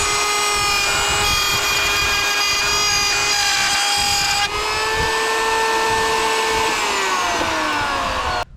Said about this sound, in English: trying to route this, the router blade tries to kick this board around